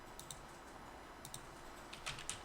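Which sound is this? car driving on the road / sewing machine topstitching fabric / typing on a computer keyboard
typing on a computer keyboard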